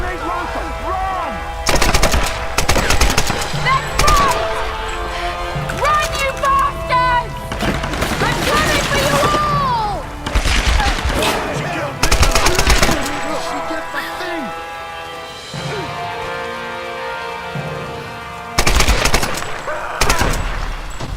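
Rifle fire and grenade launcher blasts in the Tomb Raider video game: repeated loud bursts of gunfire and heavy booms, spaced out over a constant background of game music and ambience.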